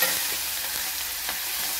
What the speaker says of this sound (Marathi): याला छान असं फोडणीमध्ये परतून